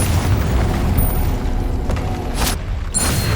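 Confringo fire spell exploding in Hogwarts Legacy, a loud rumbling blast with deep low-end roar and a couple of bright crackling bursts near the end.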